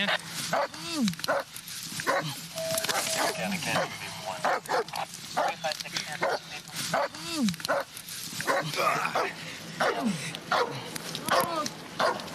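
A police K-9 barks repeatedly at close range during an arrest, sharp yips and bow-wows mixed with whimpers, under constant talk from officers issuing commands nearby.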